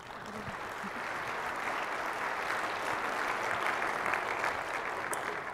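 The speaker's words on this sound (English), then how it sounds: "Please give her a big round of applause." Audience applause fills a large conference hall at an enterprise technology keynote, a steady, fairly distant clapping that swells slightly and holds without talk.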